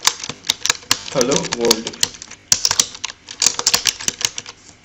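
Rapid clicks from a computer keyboard as Python code is typed into an editor, an irregular run of sharp key taps across the clip, with someone speaking briefly over the middle of it.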